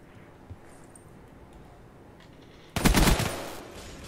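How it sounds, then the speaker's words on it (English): Gunfire from Call of Duty Black Ops 3 during an online search-and-destroy match, a sudden loud burst of rapid shots near the end that fades quickly, following a quiet stretch of faint game ambience. "I shouldn't have shot. Why'd I shoot?"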